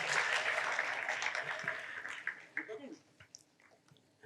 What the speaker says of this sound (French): Est-ce qu'on peut applaudir Tyson pour qu'il aille un peu plus vite, s'il vous plaît?